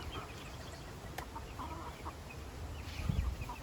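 Black Cochin Bantam chickens cluck softly in a small backyard flock, a few faint clucks scattered over steady low background noise, with a louder low burst near the end.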